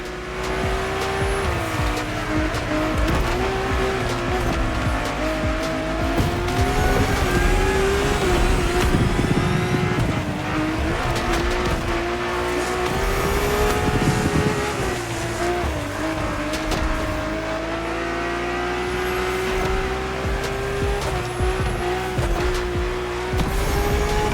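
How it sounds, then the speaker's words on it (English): Drift car in the racing game The Crew Motorfest, its engine revving hard and climbing through the gears while tires squeal and skid, loud and continuous throughout with no talk. "Drift car is powerful as hell. With so many horses, they'll try to run wild with every acceleration."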